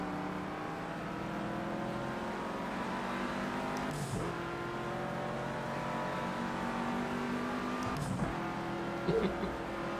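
A race car engine in Project Cars 2 drones at steady revs, with shifts at regular intervals where the pitch drops and climbs again, and faint tire noise underneath.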